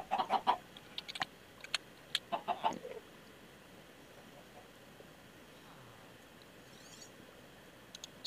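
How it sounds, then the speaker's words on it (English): Chickens cluck in a video game, a few short clucks and squawks in quick groups over the first seconds, fairly faint over a low background hum, then quiet. "So you have to watch the suicidal chickens."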